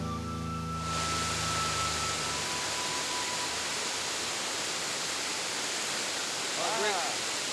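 A waterfall in the Belize jungle roars as a steady, broad rush of falling water that swells in after a brief tonal lead-in and holds loud and even, with a short voice near the end.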